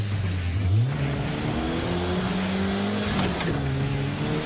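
A race car engine revs hard during a power shift, a loud, steady roar with its pitch climbing, briefly dropping at the gear change and then climbing again, with no talk over it.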